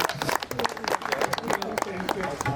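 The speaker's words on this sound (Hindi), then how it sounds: "सभी जितने भी पंडाल में हैं जोरदार तालियां बजाएं उनके लिए" Crowd in a pandal at a school alumni meet bursting into enthusiastic applause for a performer, dense clapping close and loud with voices talking over it.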